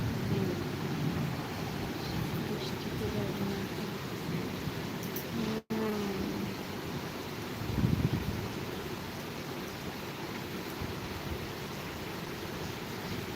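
Steady rain hisses throughout, with a low rumble of thunder swelling briefly partway through.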